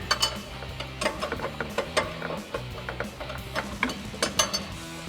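A 22mm wrench ratcheting while tightening the upper control arm bolts on a 2007-2021 Toyota Tundra front suspension, giving a fast series of close, clicking metallic ticks in uneven bursts, with no voices.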